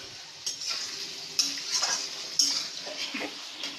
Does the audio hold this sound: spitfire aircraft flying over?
no